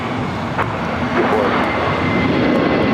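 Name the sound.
airplane taking off at Los Angeles LAX airport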